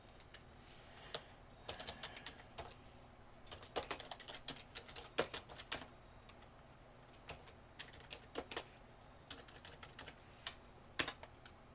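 Keys clatter on a computer keyboard in quick irregular bursts with short pauses between them, close and fairly quiet, with no voices.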